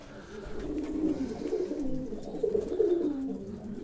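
Soft, low pigeon cooing repeats in throaty rolling phrases, close by in a pigeon loft, with faint rustling around it.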